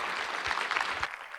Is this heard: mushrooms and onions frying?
no